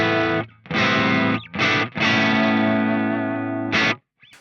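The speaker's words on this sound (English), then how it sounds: "go over to the 6160 plus clean, because the first sound I want is a clean sound" Electric guitar played through the clean channel of a Peavey 6160 Plus amp at stock settings, with a slight edge of grit; chords ring out in several bursts with short gaps, loud and close, no talking.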